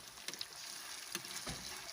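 Pumpkin koftas frying in hot oil give a quiet, steady sizzle with a few soft crackles and pops, with no voices.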